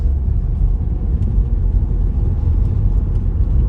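A 2013 Peugeot 3008 with an Aisin automatic transmission driving along, a steady low engine and road rumble heard from inside the car, continuous and fairly loud with no talk.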